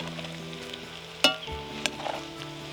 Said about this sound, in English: Just get my spoon and give these potatoes a bit of a stir